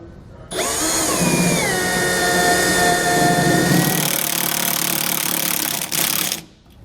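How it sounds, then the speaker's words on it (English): A power drill driving self-tapping screws while installing a leaf spring suspension kit on a 2013 Dutchmen trailer whines steadily for several seconds, its pitch dropping as it bites under load, then winds down and stops. "drill out the remaining 3 holes and then run our self-tappers in"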